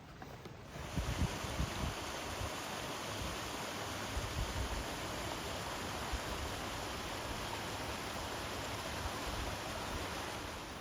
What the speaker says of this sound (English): There's just like little waterfalls all up and down through here.